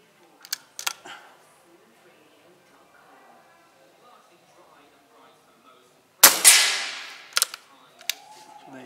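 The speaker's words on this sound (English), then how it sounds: "I'll just shoot one more because one's missed the target there" An air rifle firing a pellet at a target, a single sharp, loud crack with a brief ringing decay, preceded by a few small mechanical clicks and followed by more clicks and a short tone.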